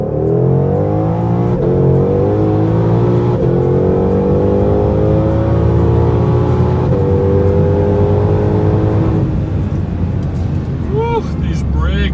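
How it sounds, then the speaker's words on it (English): A 2020 Shelby GT500 with an automatic transmission, in normal mode without launch control, accelerates hard. The loud, close engine roar climbs in pitch through several gear changes, and a voice can be heard briefly near the end. "We're now in normal mode and automatic transmission, no launch control, just giving it gas."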